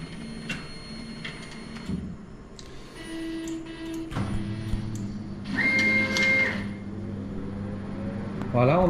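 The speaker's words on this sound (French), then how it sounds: "on entend le refroidisseur qui se met en marche" The chiller of an AEON Mira 9S CO2 laser engraver starts up with a steady low hum and a rising whirring tone joined by a higher whine, close and continuous amid faint machine noise.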